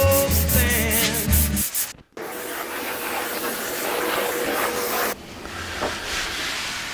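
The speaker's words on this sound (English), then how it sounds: "Just a really light touch, just the weight of the sander." Power sander run with light pressure over wood being prepped for staining, a steady rough whirring drone after a brief gap, continuing alone at moderate loudness.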